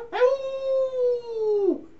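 A single long, drawn-out howl from a human voice imitating a dingo, rising at the start, holding steady, then dropping away at the end.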